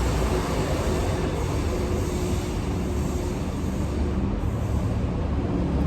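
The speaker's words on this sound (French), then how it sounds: "Il y a le train qui passe, c'est pas possible ça." A train passes steadily nearby, its broad rumbling roar filling the whole stretch at constant loudness with no voices over it.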